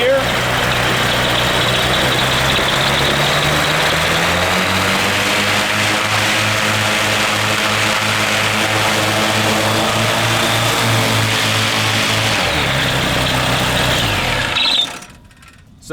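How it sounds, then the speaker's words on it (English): A motorcycle engine with multiple carburetors runs steadily at a raised idle during carburetor synchronization, a loud continuous drone with slight pitch rises as the throttle is adjusted, cutting off abruptly near the end. "I gave it a little bit more throttle on this carburetor."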